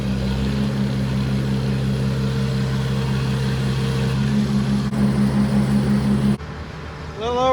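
An Oliver Super 66 tractor engine runs steadily at full throttle, close and loud, with a low, even drone. The note shifts near the end as the hydraulic lever is pulled.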